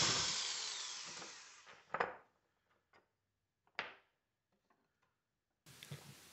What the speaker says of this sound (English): trusty handy dandy hacksaw and cut that